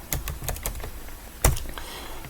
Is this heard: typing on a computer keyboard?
yes